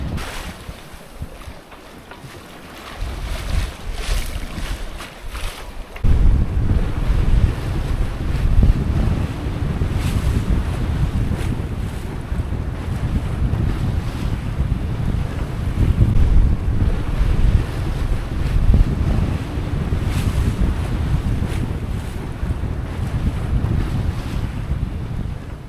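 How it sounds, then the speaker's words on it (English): A sailboat beats close-hauled through rough open Pacific Ocean, with loud gusting wind buffeting the microphone over crashing waves and rushing water. The roar builds sharply after a quieter start. "It has been a rough night of close-hauled sailing in the open ocean."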